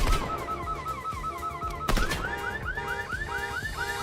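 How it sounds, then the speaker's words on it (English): A car alarm in the video game Fortnite whoops in a repeating, rising electronic cycle, continuous and loud, with a sharp bang partway through. "the alarm sounds different depending on what car you hit."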